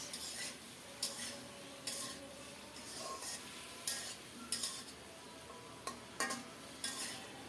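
Cauliflower curry is stirred in a pan over a soft, steady sizzle, with repeated quiet scrapes and clinks of a spoon against the metal.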